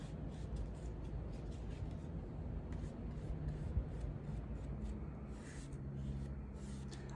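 A brush paints long strokes on the back of a tray, soft repeated scratchy swishes, very quiet and close, with faint background hum and no talking.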